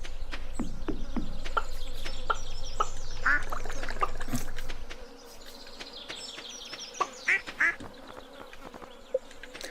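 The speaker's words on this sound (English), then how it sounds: "I like all the little farm noises they make." Farm animals in the Stardew Valley video game make small repeated quacks, clucks and buzzing calls over a low hum that cuts out halfway, leaving scattered short cartoonish chirps close by.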